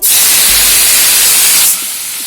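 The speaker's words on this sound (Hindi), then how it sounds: "हमने कढ़ाई गरम कर ली है और ये जो कमल ककड़ी है हम इसे अच्छे से फ्राई कर लेंगे।" Lotus stem hits a hot kadai with a loud, close burst of hissing that holds for over a second, then drops suddenly to a quieter sizzle.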